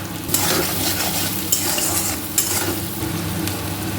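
Onions sizzle and fry steadily in a pan for fried rice made with leftover rice, with a few sharp scrapes of a spatula stirring them throughout.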